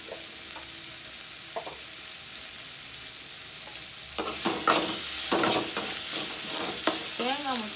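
Beans sautéed with salt for a chutney start with a quiet sizzle, then grow louder and busier as a spoon stirs and scrapes the pan in quick strokes; no one speaks.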